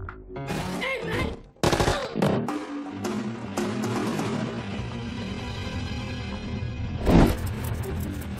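Gunfire in a TV drama shootout, a rapid burst of loud close shots and impacts at the start, then a ringing, rumbling tail with another sharp burst near the end.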